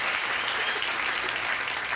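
Comedy club audience applauding, a brief steady burst of many hands clapping at moderate volume with no voices over it.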